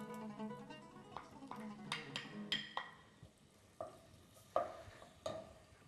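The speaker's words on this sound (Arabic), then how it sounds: "بدينا نسمعوا في الحس تاع البصل" Chopped onion sizzles faintly in heating oil in a Tunisian home kitchen, a soft hiss punctuated by stirring knocks and light utensil clinks.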